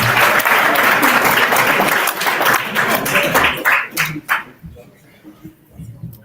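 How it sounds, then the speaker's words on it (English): Applause from an audience at a security summit event booth, dense clapping that thins out after a few seconds into scattered claps, with a dog barking and whimpering and some voices underneath. "let's give them a round of applause"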